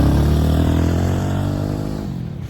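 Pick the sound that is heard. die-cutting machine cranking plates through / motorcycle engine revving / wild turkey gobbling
motorcycle engine revving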